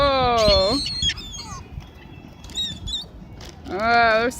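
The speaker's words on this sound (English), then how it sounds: "those seagulls are really vicious" Gulls being hand-fed give loud, harsh harmonic squawks, close by, with a burst at the start and another near the end and scattered smaller calls between them.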